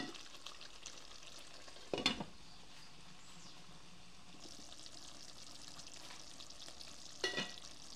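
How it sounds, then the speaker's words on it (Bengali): A rui fish head cooking in a frying pan sizzles softly and steadily while a spoon gives two or three louder scraping stirs, close and quiet, with no talk. "আমি আবার এটা নেড়ে দিচ্ছি।"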